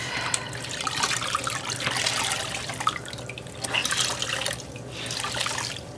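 Water drips and trickles as hand-washed raw wool, cleaned of grass and lanolin, is gently squeezed out over a basin; a steady close wet splashing runs throughout with no talk.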